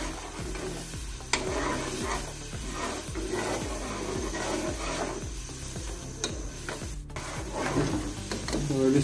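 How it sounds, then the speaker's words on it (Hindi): A spoon or spatula stirs garam masala through Kabuli pulao in a pan, giving a steady rhythmic scraping with a faint sizzle underneath, loud and close with no voice. "गरम मसाला 1 टीस्पून, अब इसको अच्छी तरह मिक्स करेंगे।"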